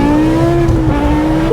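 A BMW M6 with a V10 engine and F1-style exhaust screams at high revs, a loud, sustained engine tone that drops slightly as it shifts, heard close up and alone.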